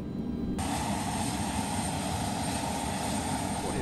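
The engines of a Convair CV-580 turboprop airliner run at high power before takeoff, a loud steady roar with a sustained whine that rises in intensity just after the start.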